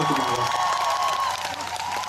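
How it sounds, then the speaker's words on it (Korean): Audience applause and cheering after a thank-you speech by the vocal group Miraclass, a continuous wash of clapping from a large crowd, with a sustained tone running beneath it. "여러분 큰 박수"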